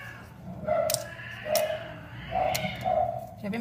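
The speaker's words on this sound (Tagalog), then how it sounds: "Siyempre may kaaway na naman yung pusa ako sa labas." Cats yowl and fight outdoors, several drawn-out, wavering cries heard at a distance through a room with low background noise.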